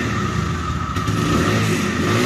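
A second-hand Raidar 125cc motorcycle idles and revs close by, a loud steady engine drone that swells slightly partway through, heard alone without talk.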